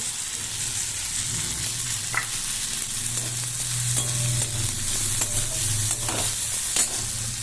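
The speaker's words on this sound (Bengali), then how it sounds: "সব ভালো করে নেড়ে নেবো" Fried sattu with potato, onion and green chilies is stirred in a sizzling pan, a steady frying hiss broken by scraping spatula strokes and occasional knocks, close and clear.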